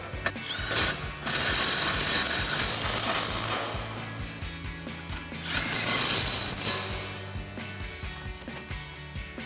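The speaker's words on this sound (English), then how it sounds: "we'll grab our 18mm socket and tighten these down" A ratchet with an 18mm socket tightens coil-over bolts on a 2005-2014 Mustang, giving steady bursts of rapid metallic clicking that pause briefly between strokes, close up and alone.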